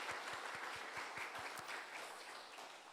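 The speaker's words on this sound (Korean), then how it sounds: "우리 감사의 박수 한번 드리겠습니다." Church congregation at a Sunday service claps in thanks, a lively, even spread of hands with faint rhythmic low thumps underneath, moderately distant and steady before tapering slightly at the end.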